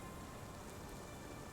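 Steady rain falling in the video game Sherlock Holmes: The Awakened, a dense, even hiss of drops on surfaces that holds constant and fills the whole moment without any voices.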